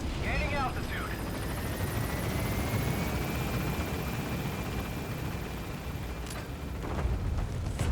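A helicopter in the video game Metal Gear Solid V takes off with a loud, continuous rotor roar and engine whine throughout, while a voice speaks briefly at the start.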